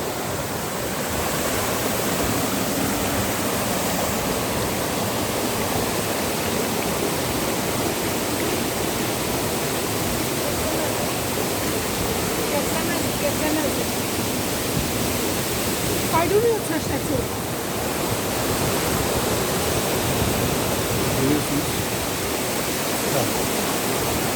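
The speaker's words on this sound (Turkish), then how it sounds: "Şu anda şelaleye geldik" A waterfall reached on a nature hike roars as a steady, loud rush of water for the whole stretch, with a brief flurry of faint outdoor noise partway through.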